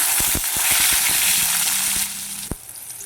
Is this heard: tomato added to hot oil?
yes